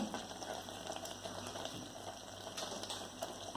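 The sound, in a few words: coconut puzhukku mixture boiling in pot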